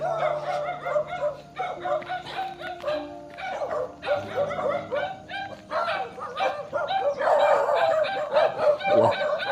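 Several dogs bark and yip in rapid, overlapping bursts near a rural home path, loud and continuous, with occasional whimpers mixed in.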